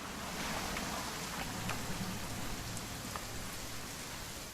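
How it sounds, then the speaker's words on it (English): Steady rain falls in the video game What Remains of Edith Finch, a continuous hiss of drops with a low hum beneath and occasional louder spatters, no voices. "It's gonna rain the whole weekend, isn't it?"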